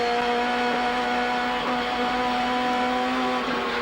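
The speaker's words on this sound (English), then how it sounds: "You can hear the Commodore to his right-hand side." Holden Commodore touring cars in a 1990 Australian Touring Car Championship race snarl past with sustained, loud engine drones and shifting pitch, several cars running close together.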